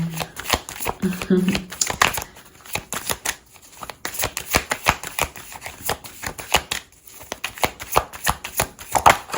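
Tarot cards are shuffled in a dense, steady stream of rapid crisp flicks and riffles close by, while a voice speaks briefly near the start.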